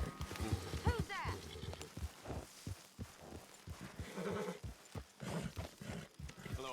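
Horse hooves in the video game Red Dead Redemption 2, a series of clip-clop steps with a neighing whinny near the start, heard under talking voices.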